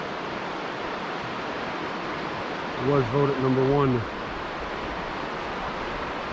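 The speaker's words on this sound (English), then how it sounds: "There's a beautiful creek here." Loyalsock Creek in Pennsylvania flowing over rocks, a steady broadband rush of water close by, with someone briefly talking over it midway.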